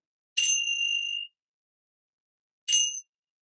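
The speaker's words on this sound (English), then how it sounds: "Let's ring the bell and get class started." A yoga class bell sounds twice, a bright clear ding that rings out for about a second, then a shorter second strike after a pause of silence.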